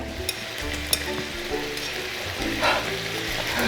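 Carrots and onions fry in a pan with a steady, close crackling sizzle, while occasional low murmurs sit faintly in the background.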